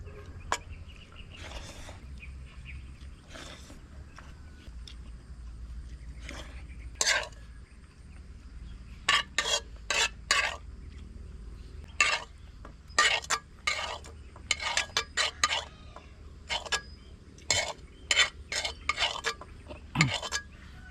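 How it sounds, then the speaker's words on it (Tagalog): A metal spatula scrapes and knocks against a wok while food is stirred, making irregular clusters of sharp clinks and scrapes over a low, steady kitchen hum. "Mabubutas na naman yung puwet ng kawali natin mga kamigs. Kasi kinakayod na naman."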